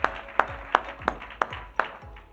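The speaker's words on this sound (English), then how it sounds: "Applause, you guys." Clapping for panelists at a corporate ESG report launch event: six sharp, evenly paced claps from one nearby pair of hands, fairly quiet against a hushed room, with no talking.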